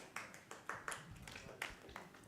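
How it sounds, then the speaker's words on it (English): A few scattered, sparse claps from an audience at a church congregational meeting, faint and irregular rather than sustained applause, with soft voices in the background. "oh, you can clap"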